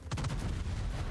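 Warship guns fire in World of Warships, a quick cluster of sharp booming shots rolling into a low rumble, loud and close with no talk.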